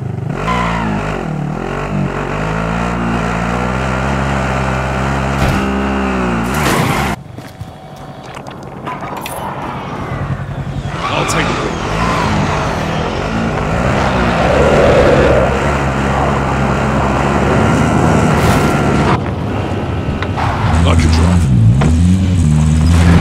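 A vehicle drives in Warzone on PS5, its engine droning and revving loudly with shifting pitch and a brief dip before rising again, while players talk over it.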